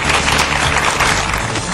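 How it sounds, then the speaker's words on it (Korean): Studio audience applause welcoming a gastroenterology professor on a Korean TV health show, a dense, steady burst of clapping lasting under two seconds, loud and close with no pause. "성균관의대 강북 삼성병원 소화기내과 전우교 교수님 큰 박수로 맞이해 주시죠"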